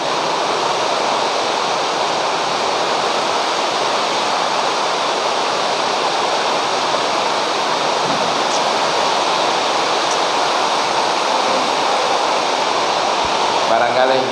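Heavy rain pours down in a steady, dense broadband roar, constant and loud throughout with no letup.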